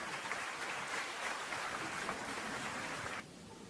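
A church congregation applauds in a dense, steady wash of clapping that sounds like rain, fairly quiet and distant, then drops off abruptly near the end.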